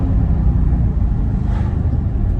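Jaguar F-PACE SVR engine rumbling loudly after a downshift, a deep throaty drone held steady for a couple of seconds, close-up with no talking over it.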